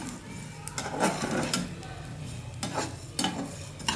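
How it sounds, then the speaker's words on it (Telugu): Horse gram roasting in a dry pan, with soft scraping stirs and light crackling sizzle recurring in short bursts, close and fairly quiet, with a little talk underneath. "అయిపోయింది, చక్కగా వేగిపోతున్నాయి."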